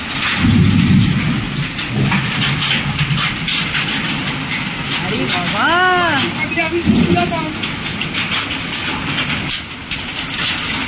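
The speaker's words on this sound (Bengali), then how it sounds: "শিলের শব্দ, সব শিলাবৃষ্টি অঝরে হচ্ছে।" Heavy hail pelts a garden lawn in a dense, continuous rattling patter, with a voice speaking briefly over the steady roar.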